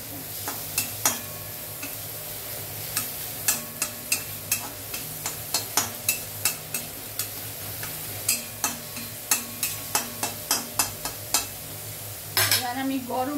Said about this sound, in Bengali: এবার আমি নাড়ছি।